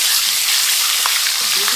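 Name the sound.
garlic and ginger frying in a pan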